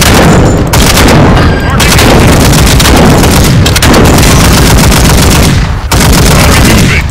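Loud, dense gunfire from the video game Modern Warfare: rapid automatic bursts and heavy blasts pour out almost without pause, with a few brief gaps between volleys.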